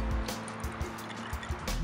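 Fresh limes being hand-juiced for a margarita, giving faint wet squishing and dribbling liquid in short bursts, with a few soft drips and no talking.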